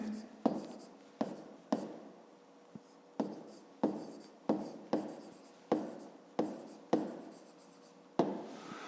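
Handwriting with a pen on paper while noting down a fifth-grade math exercise, about a dozen close, crisp strokes and taps in a steady pace, mostly alone with faint background.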